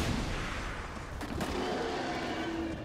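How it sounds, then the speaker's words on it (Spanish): Two grenades go off together in XCOM 2, a dense, roaring blast of noise with sharp booming bursts near the middle, loud and close with no talk. "granada más granada, doble granada. Explosión dentro de otra explosión."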